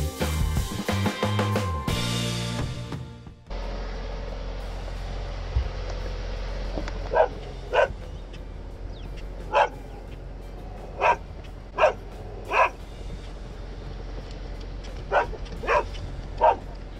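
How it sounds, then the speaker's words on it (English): A dog barks in short single yips spaced a few seconds apart over a steady boat engine drone aboard an anchored sailboat, after a brief burst of clattering noise at the start. "a good boat dog"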